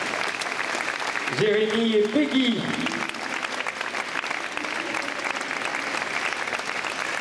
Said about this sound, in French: On peut applaudir donc très très fort.